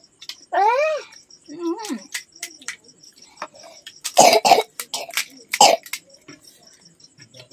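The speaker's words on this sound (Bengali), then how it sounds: "আমার খুব কাশি হয়েছে, তাই কাশি" A child with a bad cough coughs a few times in short, rough bursts, close by, with brief vocal sounds between the coughs.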